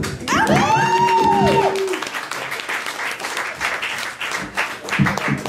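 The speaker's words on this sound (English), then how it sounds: "everybody give a big round of applause for Sean Murphy" A comedy club audience claps and cheers for a stand-up comedian. A loud wave of applause opens with a whooping shout, then thins into scattered clapping and crowd noise.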